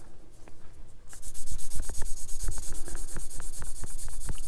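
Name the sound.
sanding plastic model kit parts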